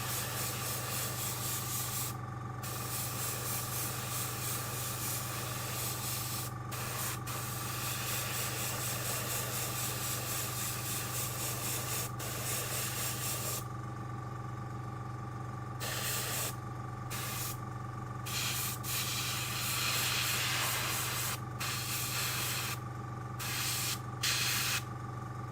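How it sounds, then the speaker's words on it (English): An airbrush sprays primer onto a miniature at a painting station, a steady hissing spray running continuously with brief pauses and restarts, over a constant low mechanical hum from a compressor. "Airbrush priming a miniature."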